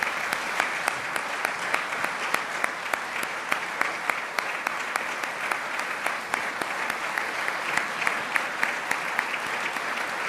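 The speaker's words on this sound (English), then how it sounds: "A big round of applause, and please, for all 15 employers, stand up for us." Sustained audience applause for military employer support award recipients at a Defense Department ceremony, a dense steady wash of many hands clapping for about ten seconds, moderately loud and even, with no talking over it.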